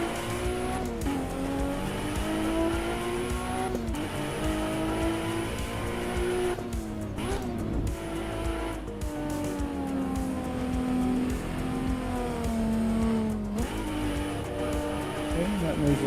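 A Toyota Supra race car's engine holds high revs in Assetto Corsa EVO, a loud continuous drone whose pitch rises and dips through gear changes, with brief tire noise as it runs off into the dirt on a turn.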